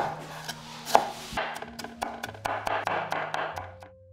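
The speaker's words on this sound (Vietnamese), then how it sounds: "Thêm 1 trái cà nữa mình cắt ra và băm nhỏ nha." Steady knife chopping through a tomato on a cutting board, a quick series of about a dozen crisp strikes over a faint background hum.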